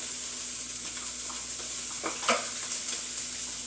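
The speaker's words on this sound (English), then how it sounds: "We're going to add in our onion now" A steady, bright sizzle of onion frying in a pan for pasta fazool, with a few soft scrapes of stirring partway through.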